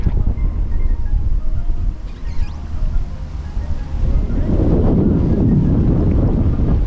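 Strong wind blows across a river on the Suwannee, buffeting the microphone with loud rumbling gusts that surge heavier near the end, with watery splashing mixed in.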